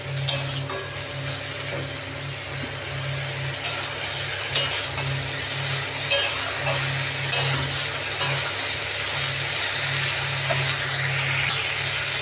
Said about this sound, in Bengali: সবজিগুলো আরেকবার নেড়ে দিচ্ছি।